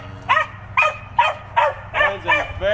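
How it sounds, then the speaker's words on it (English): A dog barks repeatedly, about seven sharp barks in a steady rhythm, loud and close. "Sorry about Pepper barking."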